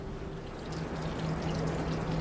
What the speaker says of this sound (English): the soothing sounds of water coming from a fountain on the formal patio